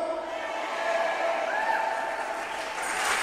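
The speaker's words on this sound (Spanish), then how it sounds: "¡Fuerte el aplauso!" Church congregation applauding during a sermon, a steady wash of clapping filling the room throughout, with a faint voice underneath.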